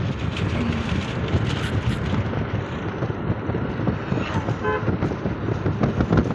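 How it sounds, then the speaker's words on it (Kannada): Strong wind buffets the microphone on a main road, a dense, steady roar throughout with low rumbling gusts, and a brief vehicle horn toot near the end. "ಇನ್ನೂ ಸಹ ರೋಡಲ್ಲಿ ತುಂಬ ಜೋರು ಗಾಳಿ ಬರ್ತುಂಟು"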